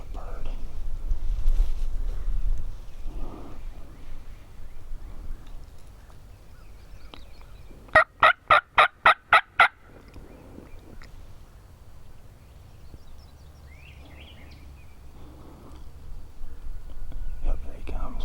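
During a spring hunt, a wild turkey tom lets out one loud, rapid rattling gobble midway, framed by long stretches of hushed whispering.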